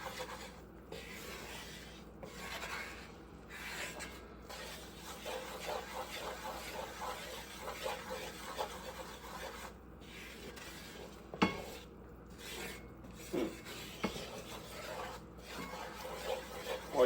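A wooden spoon stirs and scrapes flour and oil roux in a skillet while it cooks toward golden brown for a king crab gumbo, a steady soft rasping and rubbing with faint sizzle and occasional knocks against the pan.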